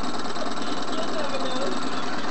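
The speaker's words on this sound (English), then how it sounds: "Proper traction engine." A Regner miniature steam traction engine, just over a foot high, runs at its first steaming with a steady, busy mechanical whirr and hiss that holds at an even level throughout.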